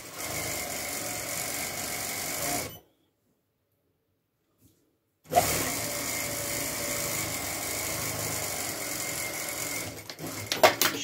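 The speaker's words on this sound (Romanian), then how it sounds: "o așezăm față la față și o coasem pe lungime, pe partea care nu se întinde, la 1 cm." A sewing machine stitches a lengthwise seam on a girl's knit hat, its motor buzzing in steady, even runs with an abrupt silent gap in the middle before it starts up again and carries on.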